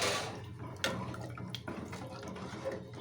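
Water splashes and gurgles as about three glasses are poured into a cooking pot, a brief pour followed by sloshing and a few drips, fairly quiet.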